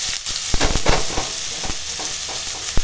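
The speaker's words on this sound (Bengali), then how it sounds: "আর এখানে কড়াই তেল দিয়ে শুকনো লঙ্কা ফোড়ন দিয়েছি। এবার আলুটা দিয়ে দেবো।" Thinly sliced potatoes hitting hot oil in a wok that already holds dried red chillies, a loud, steady sizzle broken by sharp clicks and scrapes of stirring.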